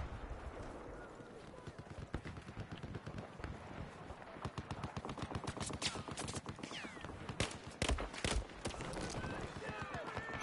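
Rapid gunfire from a weapon in the video game Battlefield 4 rattles in dense bursts of sharp shots, continuous and loud throughout, with a player talking over the action.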